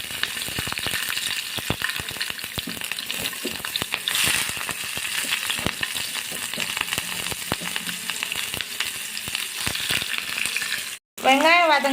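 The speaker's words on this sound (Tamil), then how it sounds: "நம்ம இதில் பேன் வச்சு எண்ணெய் ஊற்றிட்டு எண்ணெய் காஞ்சதுக்கு அப்புறமா அதில் வெங்காயத்தை" Onions sizzle and crackle in hot oil in a pan for a chili chapati dish, a steady close frying hiss with stirring scrapes, briefly cut off near the end before resuming loudly.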